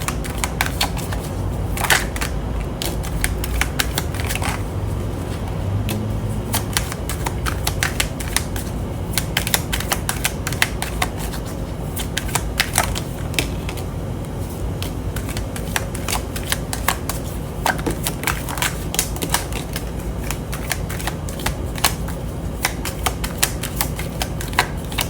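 Tarot cards shuffled by hand in a continuous run of rapid, crisp riffling clicks and flutters, close and fairly loud, with no talking over them.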